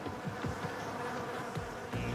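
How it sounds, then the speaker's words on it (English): Honeybees borrowed from an apiary buzz steadily on a rooftop, a close, continuous drone with a few louder swells as individual bees pass near. "With the bees on loan from the apiary, Jamie carefully selects a contender"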